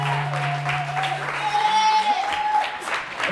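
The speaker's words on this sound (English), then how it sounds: "one more round of applause for them" Audience applause at the close of a performance, a steady wash of clapping throughout with a sustained voice or tone running underneath and a brief upward slide near the middle.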